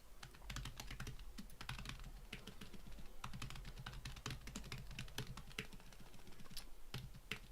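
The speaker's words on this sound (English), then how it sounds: "I'm just typing this in over Twitter." Rapid, continuous typing on a computer keyboard, dense clicking keystrokes with short pauses, heard close and steady for several seconds with no talking.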